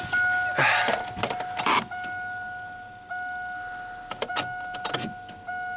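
A GMC Sonoma's electric fuel pump primes after a fuel filter and O-ring replacement, a steady mechanical hum with a constant whine running throughout, broken by a few louder clunks and rattles nearby, with no talking.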